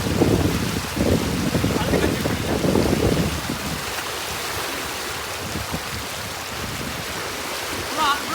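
Steady rushing water of a fast-flowing river flows close by, a broad continuous wash with muffled thumps and voices in the first few seconds.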